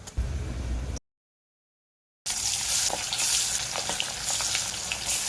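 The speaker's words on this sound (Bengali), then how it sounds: "এবার মাছ ভেজে নেব" Turmeric-and-salt-rubbed hilsa pieces fry in hot oil, a steady dense sizzle with crackling bursts, briefly cut to silence for about a second before the frying resumes loud and continuous.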